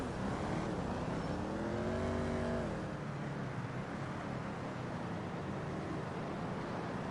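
A car drives in GTA Online with a steady engine drone whose pitch climbs as it revs, then settles into an even, lower rumble, with no talk.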